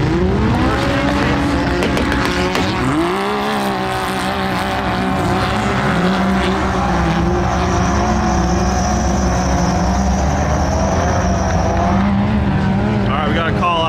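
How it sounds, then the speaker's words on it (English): Four-seat Can-Am X3 and Polaris RZR side-by-sides drag racing, their loud engines revving and climbing in pitch through gear changes, with people talking over them. "That's some random drag racing here"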